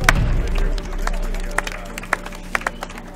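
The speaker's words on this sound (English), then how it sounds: "Could you give them a clap, please?" An outdoor audience at a trucker cook-out in British Columbia breaks into light clapping, with scattered hand claps over a low murmur of crowd noise and some nearby talk.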